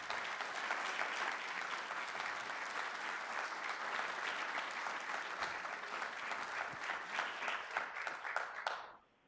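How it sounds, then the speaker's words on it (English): A crowd at a retirement ceremony for a county emergency management director gives a sustained round of applause, dense and even clapping at moderate distance that holds steady for several seconds before cutting off abruptly. "Let's give Bruce Barton a round of applause"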